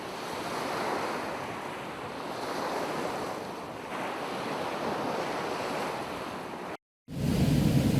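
Ocean surf breaking steadily along the coast near Guerneville, California, with a continuous wash of waves and wind buffeting the microphone, loud and close; a brief cut of silence near the end before the surf resumes.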